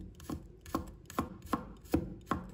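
Six evenly spaced knife strokes on a cutting board as garlic is minced, each a crisp close thud-and-click at a steady, unhurried rhythm, with no talking.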